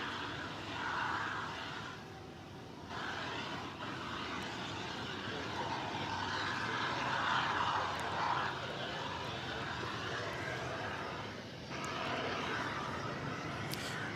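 A Sun Country airliner arriving at DFW Airport on the east side, inbound from Cancun, gives a steady, fairly distant jet roar that swells slightly midway and holds across the whole span, with no talk.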